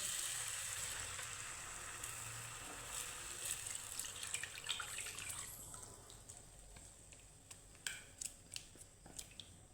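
Semolina batter poured into a hot pan, a quiet, steady sizzle and hiss that softens, followed by a few sharp scraping clicks of stirring near the end.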